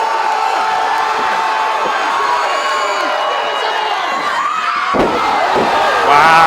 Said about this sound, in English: fans continue to push and applaud for Luke Hawx as he goes to the top of the ladder